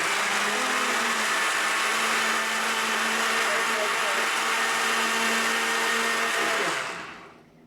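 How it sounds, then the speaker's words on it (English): A loud, steady blender whirring continuously while blending tomato soup, then winding down and cutting off near the end. "Turn the blender on, Vivi!"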